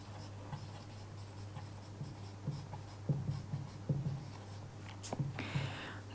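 Pen strokes scratching out a written physics definition, several soft scrapes and taps in irregular bursts over a steady low hum, close and quiet, without speech.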